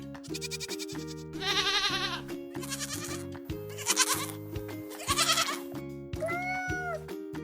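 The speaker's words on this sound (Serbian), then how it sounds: "Koza mekeće." A goat bleats several times in short, quavering cries, one after another at close range, with gentle background music running steadily underneath.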